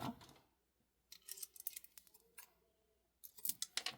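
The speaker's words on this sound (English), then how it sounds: "Well, we got to snip it off." Wire cutters snipping beading wire while stringing a sunstone bead design, giving a few sharp, close clicks and snips in quick succession separated by quiet pauses.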